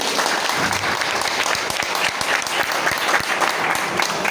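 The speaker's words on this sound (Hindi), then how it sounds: "एक बार जोरदार ताली हो जाए सर के लिए" Loud, sustained applause from an audience at a college program fills the room for several seconds in honour of a teacher, a dense, steady wash of many hands clapping without pause.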